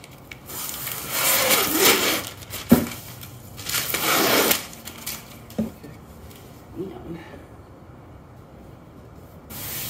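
Backing is peeled off peel-and-stick waterproof vinyl, producing two crackling, tearing bursts of a second or so each, with a few smaller rustles and taps after them, close by.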